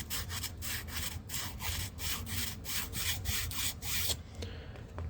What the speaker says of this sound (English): You don't want to sand it like this, you want to sand it with it centered.